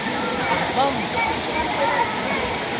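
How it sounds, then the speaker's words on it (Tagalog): Malilipot waterfall, the first of seven falls, roaring with a steady dense rush of cascading water, close and loud, with voices of bathers faintly mixed in. "yung isa sa 7 falls na tinatawag dito sa Malilipot. Ito yung pinakauna."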